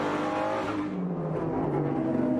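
Race cars, including a Lamborghini, speed past during an IMSA SportsCar race at Long Beach, a dense, loud engine roar with whining, shifting pitch as a pack goes by.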